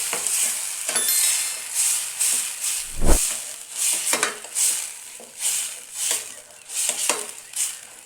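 A spoon scrapes rhythmically through thick tomato paste sizzling in hot oil for a dried fish gravy, steady strokes over a continuous frying hiss, with one dull knock on the pan.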